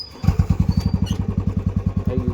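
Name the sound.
motorcycle engine started and running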